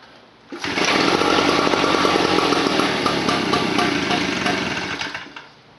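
Tailgator gasoline generator, choked, starting up and running: the engine catches after a brief quiet start and holds a loud, steady, close buzzing drone for about five seconds before tapering off.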